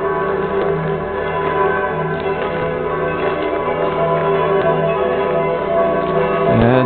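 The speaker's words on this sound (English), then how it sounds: "The bells of Europe just never get old, especially on Christmas night, or Christmas Eve night." Church bells ringing out on Christmas Eve in Salzburg, Austria, a dense, continuous peal of overlapping strokes, loud and steady throughout with no talk.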